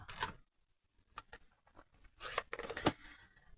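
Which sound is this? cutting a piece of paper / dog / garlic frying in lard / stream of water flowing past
cutting a piece of paper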